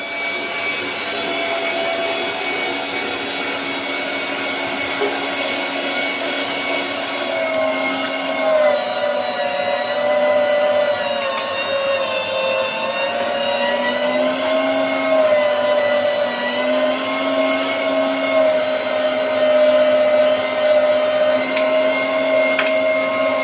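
A grinding machine mincing chillies, ginger and pomegranate seeds for Peshawari chapli kebab whines loudly and steadily, its motor pitch wavering and dipping slightly as it chews through the load, with no voice over it.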